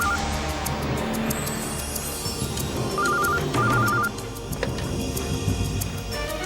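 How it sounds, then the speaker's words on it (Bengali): A telephone rings in a Bengali TV drama scene with a repeating electronic ringtone pattern, played over layered background music. "দেখো তো একটু কার ফোন"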